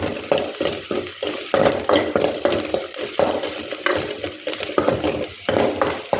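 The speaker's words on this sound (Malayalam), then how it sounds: "സബോള ഇട്ട് കൊടുത്തിട്ട് നന്നായിട്ട് വഴറ്റണം." Onions sauté in a pan with a busy sizzle, broken up by rapid, irregular scraping and stirring strokes of a spoon. The sound is close and fairly loud throughout.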